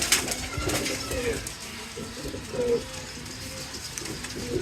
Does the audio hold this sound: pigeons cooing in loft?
yes